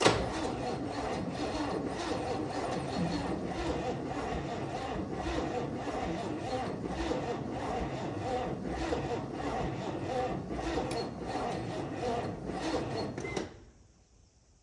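A long-dormant El Camino engine cranks steadily with a rapid rhythmic chugging, loud and continuous for about thirteen seconds before stopping abruptly.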